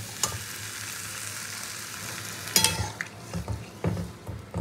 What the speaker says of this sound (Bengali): আলুটা তো খুব ভালো করে মশলার সঙ্গে কষিয়ে নিয়েছি